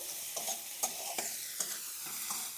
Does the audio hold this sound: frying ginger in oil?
yes